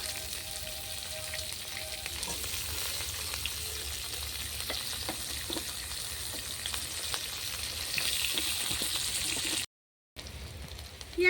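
Whole cumin, a dried red chilli and chopped onion fry in oil over a clay stove, a steady close sizzle with faint stirring scrapes, briefly cut off near the end before resuming.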